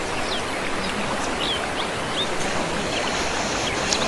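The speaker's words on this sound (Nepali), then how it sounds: "झरना हो" Shankhadev waterfall at Hupsekot, a continuous rushing roar of falling water, broadband and steady, with faint bird calls above it and no talk.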